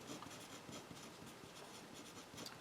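Marker or chalk writing math on a board: a rapid series of faint, close scratchy strokes and taps in irregular rhythm, with no speech.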